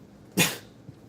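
A house cat gives a single short, sharp meow close by, over an otherwise quiet indoor room.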